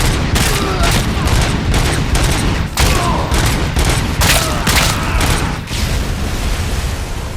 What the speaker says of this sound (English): Flashbangs? Those are some pretty high ordnance for some punks.